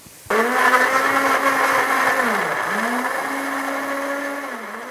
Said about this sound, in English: that's exactly now I'm moving over to blend the tomatoes